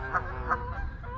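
A couple of geese honking nearby during an outdoor run, two clear nasal honks spaced apart, followed by a fainter third call over low background rumble.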